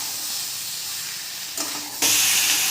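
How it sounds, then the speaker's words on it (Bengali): Spiced vegetable chorchori being stirred in a pan, a steady broadband sizzle and hiss that jumps louder near the end as more liquid hits the hot pan. "মশলাটা দিয়ে এবার একটু নাড়াচাড়া করবো।"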